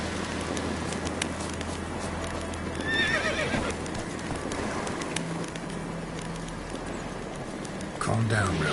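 Roach the horse in The Witcher video game neighs and whinnies around the three-second mark, with steady clip-clopping hooves running throughout and birds cooing faintly in the background.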